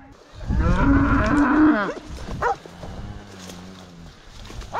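A loud, close cow moo stretches out, followed by another lower, quieter moo, as cattle are herded across a flooded river; a short sharp call sits between them.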